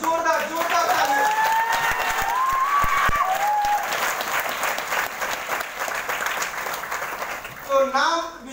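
An audience gives loud, sustained applause in honour of a father, with dense clapping and some cheering under a voice speaking over it, then voices rising briefly near the end.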